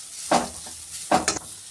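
Masala for a chicken gravy fries in a pan on the stove, heard as two short scraping stirs with a soft sizzle between them, close and quiet.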